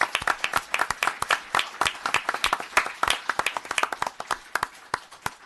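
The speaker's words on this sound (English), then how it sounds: "if I could ask everybody a round of applause for Christopher Rabasco" Applause at a town board meeting honouring a recognised resident, made of distinct, fairly sparse hand claps in a loose rhythm, close and clear, tapering slightly toward the end with no talk.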